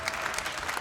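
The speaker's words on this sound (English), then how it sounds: "we should clap for Elena, yeah." A short burst of steady applause, many hands clapping at once with no pauses, fairly loud and close.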